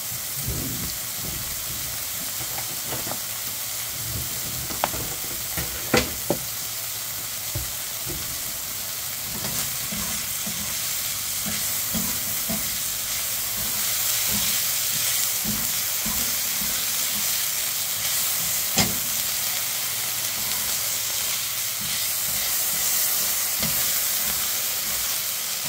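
Steady sizzling of bacon frying in a hot wok, with occasional scraping and clinks of stirring throughout, loud and continuous without speech.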